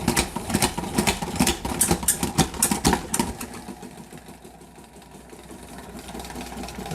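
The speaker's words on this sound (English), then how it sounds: "You can see the lettuce spinning." Hand-pumped salad spinner whirling lettuce, a rapid rhythmic whirring that pulses steadily at first, then gradually winds down to a softer, fading spin.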